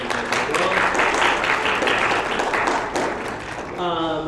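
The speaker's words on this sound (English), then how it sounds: "So give a round of applause to the hardest working interns in the world." Loud, close applause from an audience at a university discourse series event on student protests, a dense burst of clapping that tapers off before a voice starts speaking.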